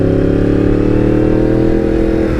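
A Yamaha MT-10 motorcycle engine idles loudly close by, its deep exhaust rumbling steadily with slight revving throughout.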